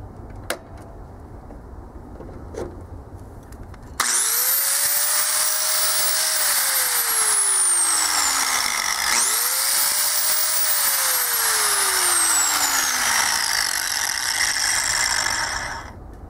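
An angle grinder plugged into an outdoor power receptacle spins up loud and steady, winds down, then spins up again for a second run before fading, with no voices.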